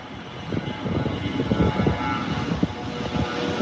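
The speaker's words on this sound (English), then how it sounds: "And the bombardier is rolling down. Short takeoff." A Bombardier airliner accelerating down a runway for a short takeoff, a broad rumbling engine roar that swells and stays strong and fairly close, with no talking.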